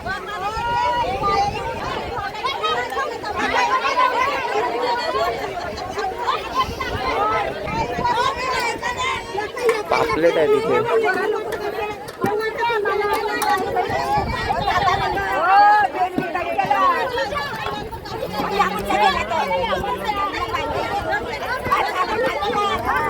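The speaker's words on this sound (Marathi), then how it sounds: "लिलाव चालू आहे त्याची गर्दी खूप आहे" A dense crowd fills a busy fish market during an auction, with loud overlapping chatter, shouts and general commotion going on throughout.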